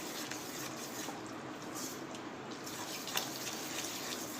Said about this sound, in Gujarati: હવે એમાં આપણે થોડું એના પર પાણી એડ કરીશું ને મિક્સ કરી લઈશું